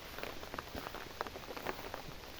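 Soft rain patters in a durian orchard, scattered drops ticking on leaves and surfaces in a faint, irregular spray with no talk.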